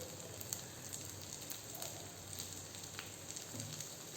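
Cut okra sautés with salt in a pan, giving a faint, continuous, even sizzle with light scattered pops and no talking.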